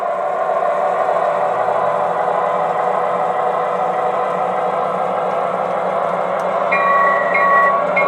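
An MTH RailKing SW1200 O-gauge model diesel switcher, fitted with DCC and a rooftop beacon, runs on its own in a push-pull shuttle, giving a steady, close rolling hum and rumble with faint higher clicks near the end.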